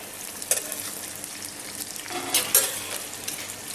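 Meat pieces sizzle steadily in a hot pan just after being flipped, a continuous crackling fry with a few louder pops and scrapes, close up and with no talking.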